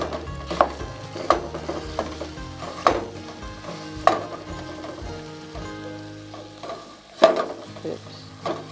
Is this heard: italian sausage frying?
yes